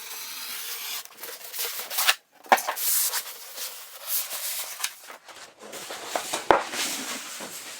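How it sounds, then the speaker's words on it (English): Razor knife slicing along the corner of a cardboard box, close and fairly quiet, with uneven scraping, rasping strokes broken by brief pauses and small sharp snaps. "So I'm going to use a razor knife. I'm going to carefully cut right along this corner here."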